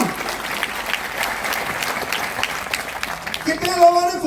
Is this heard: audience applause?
yes